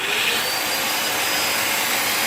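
A BISSELL Little Green Mini portable carpet cleaner runs with its hose attachment, giving a loud, steady, hissing motor whir that stays constant throughout with no pauses.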